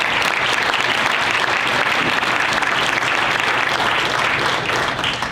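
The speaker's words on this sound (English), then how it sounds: "If we could recognize them with a quick round of applause." Steady, dense applause from a lecture audience recognizing the organizers of a college lecture series, loud and sustained throughout with no speech over it.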